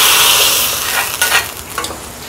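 Hot tempering poured into boiling idli sambar made with lentils and tomatoes, bursting into a loud, close hiss and sizzle that softens over a couple of seconds with a few crackling pops, no voices.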